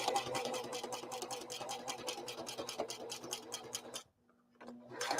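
An embroidery machine stitches a 5x7 design with a fast, steady run of close needle strikes, then stops abruptly near the end, leaving a low motor hum and a faint tick.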